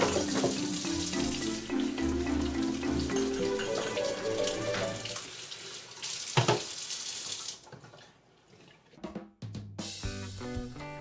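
Cherries being washed under a running kitchen tap, a loud steady gush of water splashing into the sink for several seconds, then briefly cutting out and starting again.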